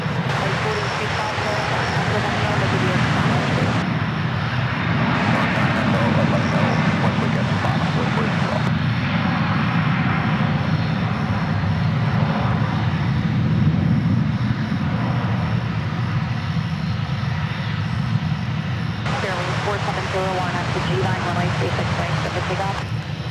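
An Airbus A321 jet taking off at DFW airport, a steady loud engine roar sustained throughout with airband radio chatter and a commentator's voice over it.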